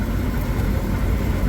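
A steady, low engine rumble from a 1941 Dodge WC-6 truck idles continuously with no change in pace, loud and close, with no voices.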